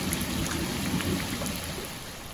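Heavy rain driven by strong wind at a French chateau, a dense, steady roar of downpour with gusting noise, close and continuous with no voices.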